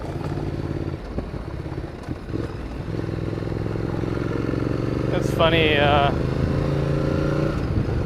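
A Ducati Multistrada 1200 motorcycle rides along a gravel road with a steady, close engine drone and rough clatter underneath. Someone talks over it throughout.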